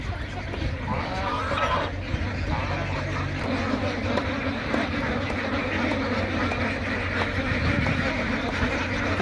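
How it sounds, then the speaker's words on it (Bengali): A large flock of about fifteen hundred ducks at a duck farm quacks continuously in a dense, busy chorus, close and fairly loud throughout. "দেখেন কি চমৎকারভাবে হাঁসগুলো খেলা করে বেড়াচ্ছে"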